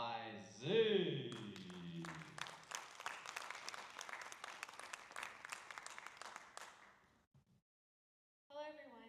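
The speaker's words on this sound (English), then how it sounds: "let's give a nice round of applause for our first contestant, Clairlyn" An audience claps for the first contestant at the Miss Haskell pageant. A voice speaks first, then a steady round of applause follows and fades into silence before a voice starts again.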